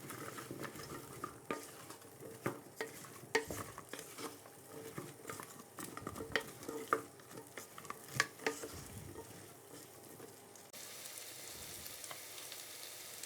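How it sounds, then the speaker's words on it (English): Vegetables sautéing in olive oil for a habanero hot sauce, a steady low sizzle broken by scattered clinks and scrapes of a spoon stirring the pan, close and moderately quiet, with no one talking. "And then it's in with the vegetables and we're going to soften these, saute them for about 7 or 8 minutes"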